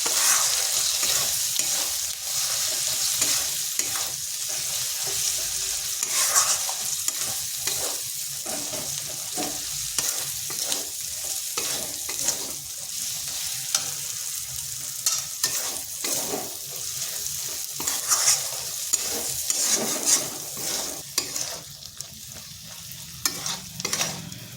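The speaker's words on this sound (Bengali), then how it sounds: "এরপর মশলাটা কিছুক্ষণ কষে নিচ্ছি" Ground spices with coriander, chili and turmeric powder fry in a pan for a meat pitha dish, sizzling steadily while a spoon scrapes and stirs through them in repeated close strokes, with no talking.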